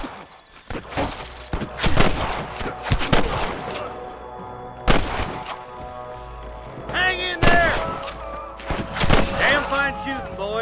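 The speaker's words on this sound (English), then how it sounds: "Shooting, boys." Repeated gunfire bursts and sharp shots ring out in a Red Dead Redemption battle, loud and close, mixed with shouting voices and ambient game sound across the whole stretch.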